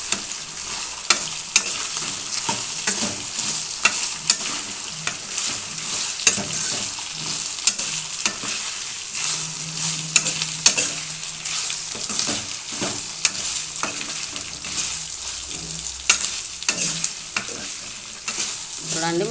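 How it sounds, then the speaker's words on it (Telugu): Ginger garlic paste is stirred into a frying potato and brinjal curry, with a continuous moderate sizzle broken by frequent scraping and clinking strokes of a spoon against the pan, and no talking. "అల్లం ఎల్లిపాయ పేస్టు వేసి బాగా కలిపేద్దామండి"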